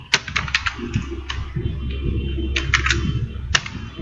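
A computer keyboard being typed on while HTML code is entered: a quick, uneven run of close clicking keystrokes with a few sharper taps, over a low steady background hum.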